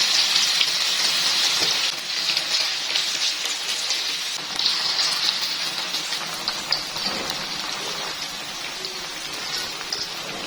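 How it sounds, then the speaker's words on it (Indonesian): Tempe fritter batter frying in hot oil, a steady dense sizzle and crackle heard close and continuous throughout. "Kemudian kita lanjut goreng adonannya sampai selesai ya."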